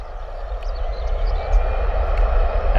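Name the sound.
EasyJet Airbus A320 jet taking off at Bristol Airport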